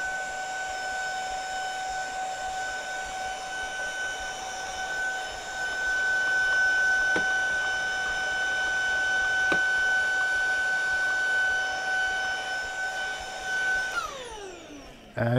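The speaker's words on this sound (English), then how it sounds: "Now, I am going to be using a vacuum very shortly, our little Tinico." A small Tinico vacuum cleaner runs while cleaning a dirty PC, a steady high-pitched motor whine held at a fairly even level for over ten seconds, then spinning down near the end, with no talking.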